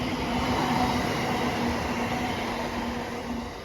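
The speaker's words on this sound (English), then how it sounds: "here we have a 730 going ECS from Bletchley to London Euston" A Class 730 electric train runs empty through Watford Junction station, a loud, steady rumble of wheels and motors with a faint humming tone, fading slightly toward the end.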